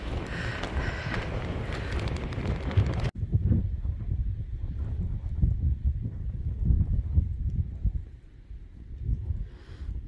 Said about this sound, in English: This is blustery.